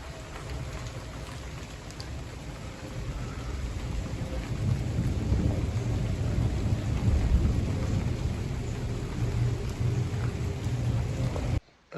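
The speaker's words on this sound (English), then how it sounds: "there it is again, rain and thunder" Thunder rumbles low and heavy over steady rain falling around a roof during roofing work, the downpour constant and loud throughout, with the rumble swelling midway.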